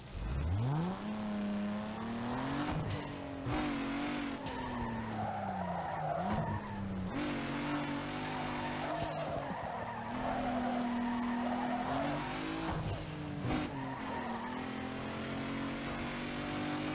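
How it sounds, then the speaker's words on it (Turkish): A car drifts with sustained tire squeal in the racing game Need for Speed Underground 2. The squeal holds steady pitched tones over a continuous engine roar for the whole stretch, with a few brief breaks and slides. No one talks. "Şurada bir drift var."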